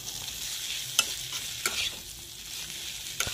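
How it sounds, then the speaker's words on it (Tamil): Samosa masala being stirred in a hot pan, with a steady, close sizzle broken by a few sharp spoon scrapes against the metal. "மசாலா நல்லா கிளறி"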